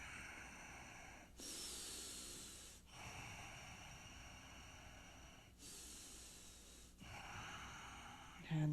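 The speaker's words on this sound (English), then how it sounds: "2 more deep breaths." Slow, deep breaths during a calm yoga practice: two long, airy inhales alternating with quieter exhales, soft and close, with no one talking.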